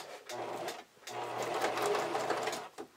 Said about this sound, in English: I'm going to use my sewing machine first and then serge the edge